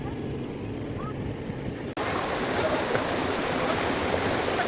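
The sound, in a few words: Bambi Falls waterfall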